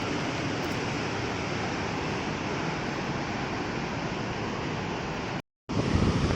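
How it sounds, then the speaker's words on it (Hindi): The Alaknanda river rushing noisily along a mountain trail, a dense, continuous roar of flowing water with wind buffeting the microphone, loud and unbroken apart from a brief dropout near the end. "अलकनंदा नदी शोर करते हुए जा रही है और आप सुन रहे होंगे आवाज़"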